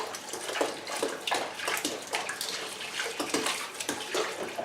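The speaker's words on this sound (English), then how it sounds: "Now when you're washing up, the idea is to remove the food that the germs grow on." Dishes being washed up by hand in a sink full of water, with repeated close sloshing and splashing strokes in an uneven rhythm and no talk.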